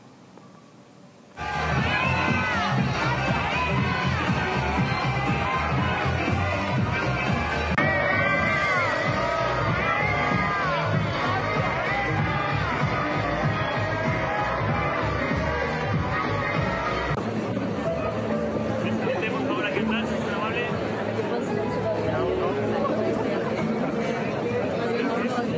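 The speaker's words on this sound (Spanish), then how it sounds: "la verdad es que se ha llevado unos abucheos bonitos" A large crowd at Madrid Fashion Week boos and jeers in a loud, sustained roar of many voices, with shouts rising out of the din throughout.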